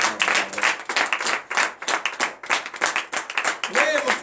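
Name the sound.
congregation clapping and cheering in acclamation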